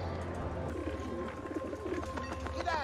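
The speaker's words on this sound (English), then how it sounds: "The birds." Pigeons or doves coo in a low, repeated rhythm, fairly close, over a steady hum and faint higher chirps, with no talk.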